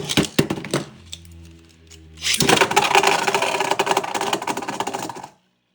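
A Beyblade is launched and spins in a stadium, giving a dense, steady metallic whirring and rattling after a few sharp clicks, loud and close, then cuts off abruptly.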